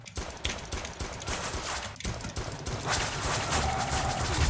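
Shotgun blasts in a Roblox SCP roleplay game, a few sharp shots cutting through a dense, steady wash of game noise and firing at close range.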